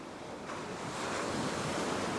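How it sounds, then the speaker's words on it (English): Ocean waves break and wash up onto a fishing beach in a continuous roaring surf, loud and close, with wind buffeting throughout and no voices. "Just wait for a little gap in between the waves."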